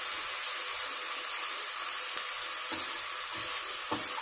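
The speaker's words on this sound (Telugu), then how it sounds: "అల్లం వెల్లుల్లి ఒక 2 స్పూన్స్ వేయండి." Ginger garlic paste sizzles in a pan while cooking prawn biryani, a close, steady frying hiss with occasional stirring scrapes and no talk.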